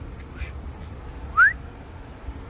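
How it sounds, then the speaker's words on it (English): A single short rising whistle sounds at moderate distance against a quiet background, with a few faint chirp-like traces around it. "getting very low, a whistle"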